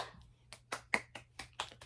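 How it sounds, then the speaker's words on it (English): A single person claps hands about eight times at a steady, moderate pace, crisp and close in a quiet room. "Round of applause, round of applause."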